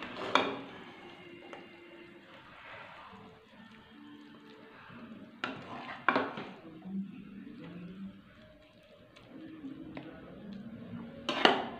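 A spoon scraping and clinking against a metal pot while mixed vegetable curry is served out in a home kitchen, scattered knocks and soft scrapes at a steady, unhurried pace, close up with no speech.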